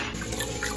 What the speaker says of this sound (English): take the pot out and wash the rice